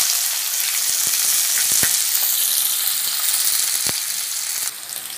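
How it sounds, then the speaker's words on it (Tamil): Onions frying with popping mustard seeds in a pan, a loud continuous close sizzle with occasional sharp pops and taps of a stirring spoon, no talking. "இப்போ ஒரு கப் வெங்காயத்தை நம்ம அதுல போட்டுறலாம்."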